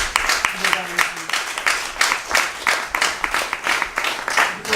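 Audience applause at an African community networks summit session on women in community networks, a ragged spread of clapping hands with distinct claps rising and falling.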